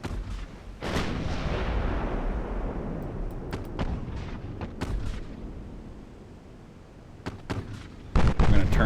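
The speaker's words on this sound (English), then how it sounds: "I'm going to turn so we can get a full broadside going here." Battleship broadside gunfire in the naval warfare game Ultimate Admiral: Dreadnoughts: heavy booming cannon blasts with long rumbling decay, followed by scattered sharp shots and a final loud salvo, with someone talking in between.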